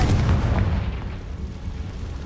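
A Confringo fire spell from the Hogwarts Legacy video game goes off as a booming blast, a dense low rumble that swells at once and rolls on steadily with no voice over it.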